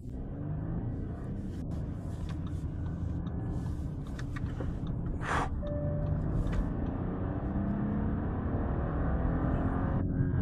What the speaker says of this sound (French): j'adore ce rugissement du moteur